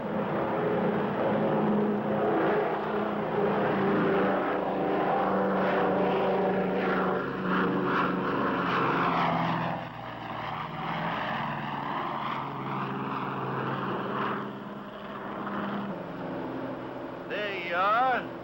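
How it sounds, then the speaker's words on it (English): A Lockheed Super Constellation propeller airliner roars through its takeoff with a steady droning engine note, while someone talks over the noise throughout. "Big as this Super Connie is, she wants to fly right on off of there."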